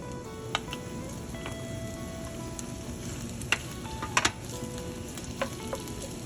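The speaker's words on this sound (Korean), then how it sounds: "기름 열이 올라오면 양파는 남기고 대파만 먼저 넣어주세요." Green onion frying in hot cooking oil mixed with chili oil, a steady close sizzle with a few sharper pops and crackles scattered through it, with no voices.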